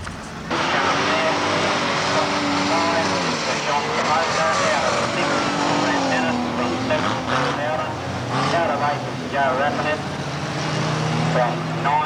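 Bumper cars in a Division 2 heat roar around the dirt oval at Drouin speedway, a loud steady engine drone with rising and falling revs throughout, an announcer talking over the racing.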